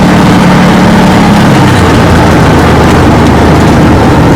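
A Massimo Militia 1000 side-by-side UTV engine runs steady and loud with a continuous low rumble, close by and with no pauses, its idle note shifting slightly partway through.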